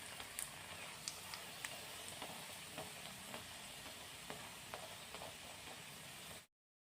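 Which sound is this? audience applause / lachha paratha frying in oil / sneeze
lachha paratha frying in oil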